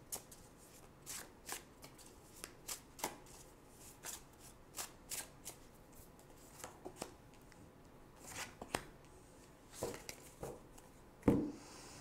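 Tarot cards being shuffled and drawn, giving a run of quiet crisp riffles and flicks in uneven bursts, close-up and faint, with a sharper card snap near the end and no talking.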